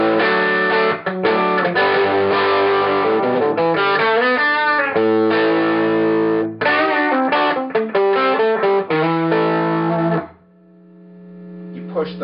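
A PRS SE Soapbar II electric guitar played through its bridge pickup with heavy distortion, loud chords and riffs ringing out alone, ending in a sustained fading note.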